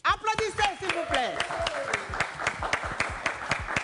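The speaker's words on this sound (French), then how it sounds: "Applaudissez, s'il vous plaît." A studio audience on a French call-in talk show bursts into applause, with dense, steady clapping close by and loud whoops and excited voices rising over the start before the clapping carries on alone.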